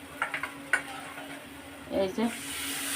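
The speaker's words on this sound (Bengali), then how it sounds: "এখন একটু পানি দিয়ে দেবো শুটকিটা কষানোর জন্য" Dried fish in a pan with chili paste and turmeric sizzles softly as a little water goes in, with a few clinks and stirring scrapes and a quick burst of hissing, close and fairly faint.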